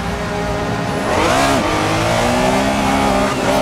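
A Porsche 911 Carrera RSR 3.0 engine revs and accelerates hard in Assetto Corsa at Silverstone GP, pitch climbing, briefly dropping at a gear change, then rising again, loud and close.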